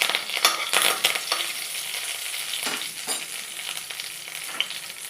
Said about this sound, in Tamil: கடுகு கறிவேப்பிலை போட்டு தாளிக்கணும்.